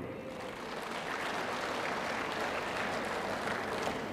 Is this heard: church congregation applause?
yes